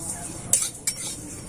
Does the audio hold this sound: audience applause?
no